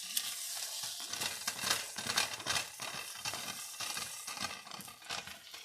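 Shrimp fried rice with egg, sausage and bacon stirred and tossed in a hot pan; a continuous close sizzle with uneven scraping and rustling surges, no talking.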